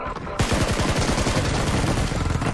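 Rapid automatic gunfire in the battle game PUBG, a dense stream of sharp shots starting abruptly after a brief quiet moment and continuing loud and steady to the end, with a voice faintly underneath.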